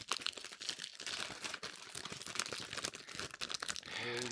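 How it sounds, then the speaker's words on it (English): Cellophane wrapper on a pack of Sour Patch Kids candy crinkles and crackles close up for several seconds, busy and continuous, with brief tearing crunches as it is wrestled open. "Struggling with the cellophane."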